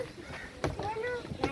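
A small boat sets out on the sea, with wind and water noise as a low rumble and voices talking close by.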